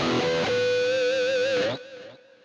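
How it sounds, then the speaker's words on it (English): An electric guitar runs through distortion with the OD200 boost engaged, sustaining one thick, overdriven note with slight wavering before it cuts off and rings down into a quiet tail. "So right now we have a distortion sound."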